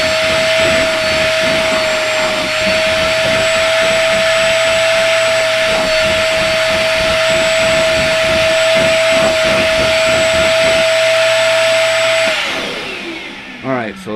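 A VEVOR 5.3 gallon, 1.6 peak HP wet dry shop vacuum runs with a loud steady roaring whine and a sustained high tone, then powers down and winds off near the end.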